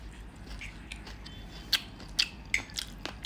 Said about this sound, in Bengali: এতক্ষণ পেয়ারা মাখা খেলাম এখন চানাচুর মাখা